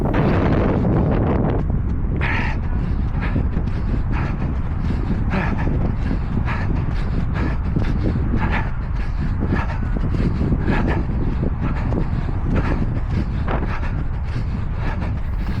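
Strong headwind pounds a microphone on a runner during an outdoor 5k race, producing a constant loud low roar pulsing with each footstep, near and overwhelming, with no clear speech.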